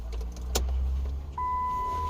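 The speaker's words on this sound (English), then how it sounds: "You hear like solenoids clicking too." Relays and solenoids click inside a 2007 Chrysler Sebring 2.4L as the key is switched on: a sharp click, a steady mechanical hum, then a sustained electronic whine or chime from the dash, all close and steady.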